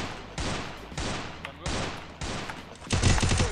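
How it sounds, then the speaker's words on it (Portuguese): Loud gunfire comes in repeated bursts, four or five separate volleys with short pauses between them, and a heavier, denser burst at the end. "Mano, dá um tiro, Marcelo."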